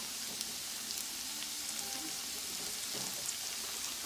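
Minced garlic and shallots sizzle softly in a skillet, a faint, steady frying hiss with scattered light crackles and no voices.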